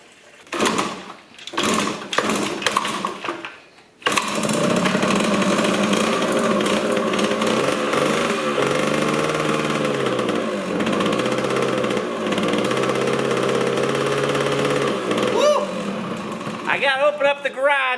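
Yamaha GT80 two-stroke dirt bike sputters through a few failed tries, then catches and runs steadily inside a garage, a loud buzzing idle that wavers and revs slightly, close up.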